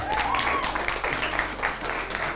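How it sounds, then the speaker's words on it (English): A class of Year 7 students applauds an award winner at a school achievement celebration, a steady wash of clapping from a small group filling the moment evenly, with faint voices mixed underneath. "So a huge round of applause to Fraser Johnson."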